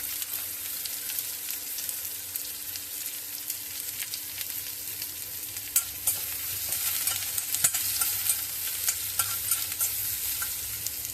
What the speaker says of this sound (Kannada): ನಂತರ ಈರುಳ್ಳಿ ಹಾಕಿ ಚೆನ್ನಾಗಿ ಹುರಿಯಿರಿ.